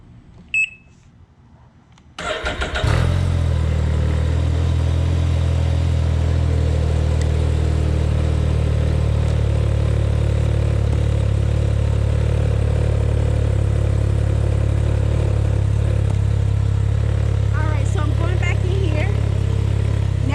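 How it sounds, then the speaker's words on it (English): A Can-Am Ryker motorcycle engine catches after a couple of seconds of near quiet, then settles into a loud, steady low idle that runs to the end. "I'm going to crank the motorcycle up now"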